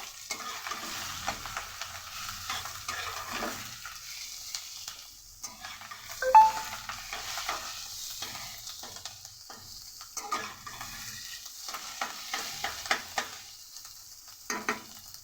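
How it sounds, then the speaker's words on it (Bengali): Fish roe fries in a pan with turmeric and salt, a low continuous sizzle with repeated scraping and stirring clicks from a utensil, close and fairly quiet, with no one speaking. "এবার মাছের ডিমের মধ্যেই দিয়ে দেব আর একটু পরিমাণ হলুদ তার সাথে দিয়ে দেবো অল্প পরিমাণ নুন এবার ভালো করে ভেজে নেবো"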